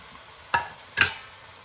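Two short, close scraping stirs sound in a pan as whole zucchini pieces go in with cauliflower for a mixed vegetable sabzi, each with a faint sizzle over quiet background.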